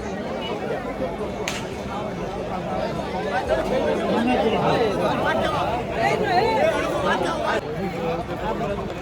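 Dense crowd chatter at the Ghodemukh temple fair in the Konkan, a steady, loud babble of many voices close around with no single voice standing out, continuous throughout.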